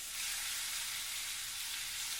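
Food sizzles in a cast iron skillet, a continuous bright frying hiss at steady moderate volume with no talking.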